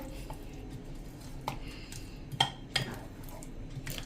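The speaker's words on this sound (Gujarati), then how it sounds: "હવે આને બધું આપણે સરસ મિક્સ કરી લેશું" A spoon stirs and mixes sprouted moong pudla batter in a bowl, giving soft wet squishing with several sharp clinks against the bowl's rim, fairly close and moderately quiet.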